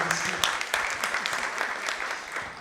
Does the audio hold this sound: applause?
yes